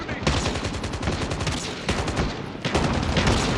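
Sustained automatic machine gun fire in the video game COD Mobile, loud and close, rattling in rapid continuous bursts with a short gap between them.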